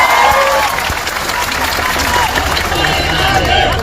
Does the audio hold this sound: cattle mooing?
no